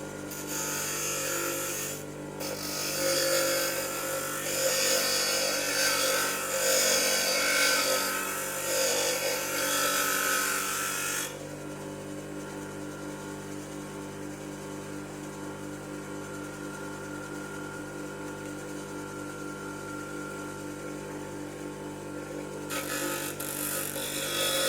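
A power tool grinds and sands a metal shotgun key, a loud abrasive whir for about ten seconds that drops to a steadier, quieter grinding hum for the rest, with no talking.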